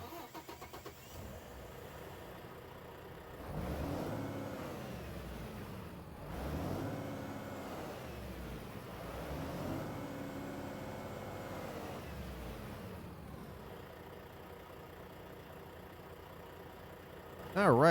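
Simulated Iveco Cursor 9 diesel truck engine, 400 horsepower, in American Truck Simulator, rumbling at steady mid level with swelling revs and gear-change dips, running alone with no voices over it.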